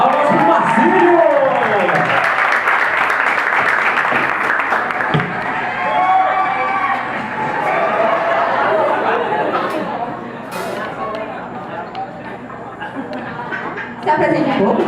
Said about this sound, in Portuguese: Palmas para o Marcílio!